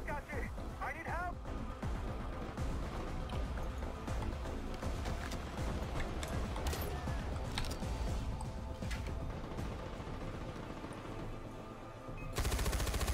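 Dense gunfire and machine-gun bursts as soldiers attack a weapons cache in the video game Far Cry 4, continuous and busy throughout with overlapping effects and a louder burst near the end.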